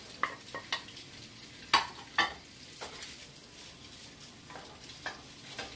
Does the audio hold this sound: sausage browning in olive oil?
yes